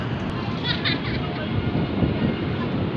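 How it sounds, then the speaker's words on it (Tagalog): A broad, steady rumble of an LRT light rail train rolling past at night near Pasig River Esplanade, with a brief higher squeal near the start and faint voices in the background. "ayun na naman ang LRT Ayun ang LRT"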